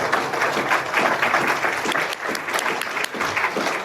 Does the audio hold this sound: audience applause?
yes